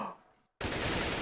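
AWP sniper rifle fired through a wall in a competitive CS:GO esports match on Cobblestone, an abrupt loud blast bursting in after a brief near-silent moment and ringing on to the end, with no talking.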